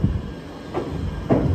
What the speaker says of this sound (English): under a railway bridge as a train comes across